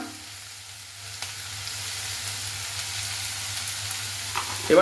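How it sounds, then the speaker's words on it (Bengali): Salted onion fries in a pan with a steady, close sizzle that grows slightly louder, and a few faint scrapes of stirring are heard. "পেঁয়াজটা একটু ভালো করে ভেজে নেব"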